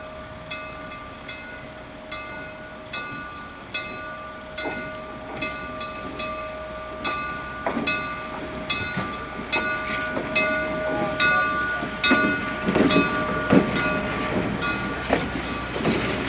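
A train on the LCCA Scranton to Honesdale ride runs along the rails, wheels clacking in a steady rhythm of sharp regular clicks over a low rumble, with a sustained horn-like tone held through the middle.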